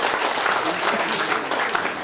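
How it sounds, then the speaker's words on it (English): Audience at an annual day celebration giving steady, dense applause for a girls' performance, close and loud for the full moment with no talk over it. "Round of applause for these beautiful girls."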